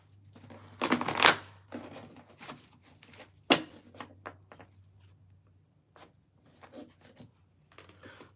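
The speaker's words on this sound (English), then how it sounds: "I need to shuffle." Cards are shuffled up close in a quiet room, with a flurry of riffling bursts followed by scattered soft rustles and taps, and no talking.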